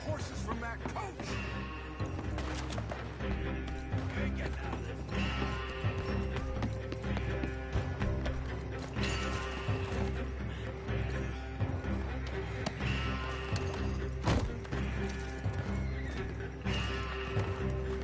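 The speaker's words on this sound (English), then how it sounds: "We can take the horses from that coach." Horses in the Red Dead Redemption video game gallop with steady clip-clop hoofbeats and repeated neighs and whinnies, layered over constant game ambience and music at moderate volume for the whole stretch.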